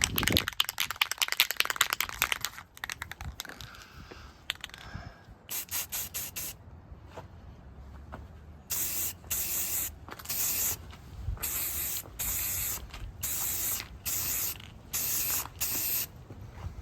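Aerosol can spraying matte black paint onto small 3D-printed rank pips in bursts of loud hiss, irregular at first, then a steady run of regular sprays with short gaps between them.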